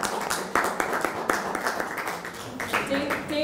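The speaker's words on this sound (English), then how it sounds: "So go ahead and give him a round of applause." An audience at a poetry talk gives a round of applause, a dense run of clapping heard with overlapping talk throughout.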